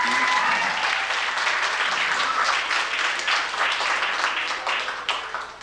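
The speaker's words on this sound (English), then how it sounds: "Nice round of applause for these students." A school concert audience applauds band students with steady, dense clapping that holds for several seconds, then thins and fades slightly toward the end.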